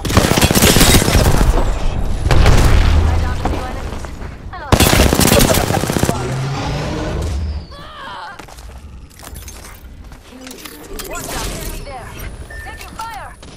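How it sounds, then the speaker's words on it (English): Gunfire in Apex Legends: loud rapid bursts and single shots with sharp impacts and shattering, heaviest early and then sparser, with a speaking voice heard over the shooting. "Joker's shooting at me."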